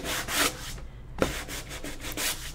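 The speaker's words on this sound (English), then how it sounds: "I'm going to sand through it." Steady back-and-forth rubbing of sandpaper on a painted wooden DIY sign, close and fairly loud, in several strokes with one brief pause, with no speech.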